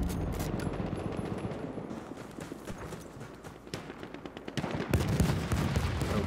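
Battlefield 1 gameplay with dense rapid gunfire and sniper cracks, loud and continuous over rumbling battle noise, rising to a heavier burst near the end.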